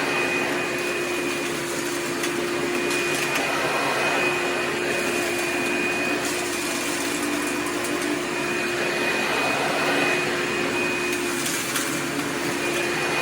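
Hoover PowerDrive Supreme upright vacuum cleaner fitted with a HEPA bag running continuously, a loud steady motor whine with a sustained high tone and airy rush over a low hum, no voices.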